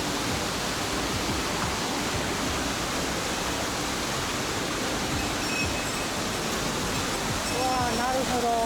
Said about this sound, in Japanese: ほんまにあるんか、滝が